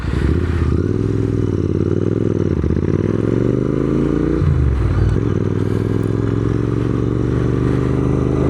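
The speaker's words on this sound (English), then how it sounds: "Oh, that was a clean gear shift." A Royal Enfield Interceptor 650 motorcycle on the move, its loud, close engine note rising and dropping as it accelerates and shifts gears, with a clear dip and recovery at a gear change midway and no voices.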